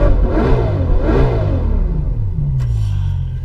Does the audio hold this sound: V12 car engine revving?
yes